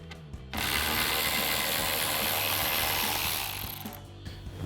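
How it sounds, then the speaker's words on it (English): A 10mm socket on a hand ratchet loosens a bolt on a RAM 2500 towing mirror, a quick run of close, rapid clicking that starts abruptly and fades out after a few seconds. "we're going to grab our 10mm socket on a ratchet"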